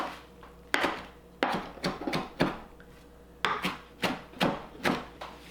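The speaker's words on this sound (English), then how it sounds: "I'm just going to take a handful of my baby kale, and I'm just going to chop it up so it's kind of smaller pieces" A knife chopping a handful of baby kale on a cutting board: about a dozen crisp, close knocks in uneven bursts, fairly quiet with no talking.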